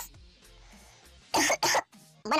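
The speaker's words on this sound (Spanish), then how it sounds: "se va a escuchar diferente a mi tos" A few quick, harsh coughs burst out close up from a man with a dry throat after a quiet stretch of soft murmuring, with a short pause between the loud bursts.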